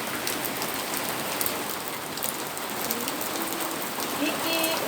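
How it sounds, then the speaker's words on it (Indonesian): Steady rain pours down outdoors during a play session in the rain, a dense, even hiss of drops throughout, with faint children's voices far in the background. "hujan-hujanan"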